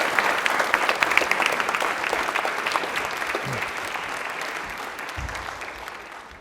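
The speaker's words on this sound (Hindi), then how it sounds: "ताली में बजाइए।" A studio audience at a Rajasthani television quiz show claps steadily for about six seconds, dense even applause that fades slightly at the end with no talk over it.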